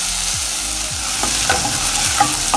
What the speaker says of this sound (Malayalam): അപ്പോൾ ഇത് നന്നായി വഴറ്റിയെടുക്കാം